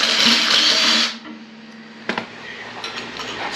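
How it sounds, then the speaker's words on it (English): A loud, steady whir of a power drill drilling holes in metal washers runs for about a second, then stops, followed by quieter clanks and handling noises. "So now I gotta drill holes in the washers."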